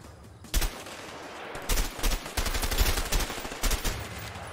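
Bursts of gunfire in the co-op prison-escape game A Way Out, with several loud volleys of rapid shots cutting through a steady background of game noise, no talk.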